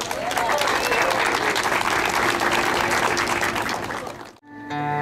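Audience applause greeting Edinho and Cida Lobo, the duo, at a tribute show for Batista Santos: dense, steady clapping from a crowd with a few cheers, sustained for several seconds before cutting off abruptly, then faint tones.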